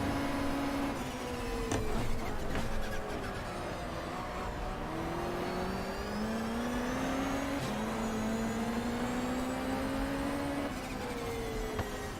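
Engine of a 1993 BTCC touring car in the racing game GTR 2 at Brands Hatch Indy, a continuous rising and falling whine through gear changes, steady and close with no talk.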